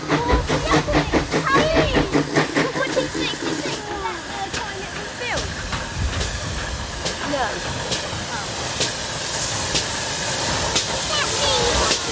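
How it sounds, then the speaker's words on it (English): A steam train chuffs rhythmically at first, then hisses and rumbles as it slows arriving at a platform, with squeals and clanks over a steady roar and faint voices. "The train will be here soon."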